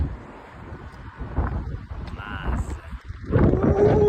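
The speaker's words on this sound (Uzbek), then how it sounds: "Shamol o'chirishni qaranglar" Strong wind gusts outdoors, rumbling and buffeting with surges that swell toward the end, while a voice is heard faintly in the background.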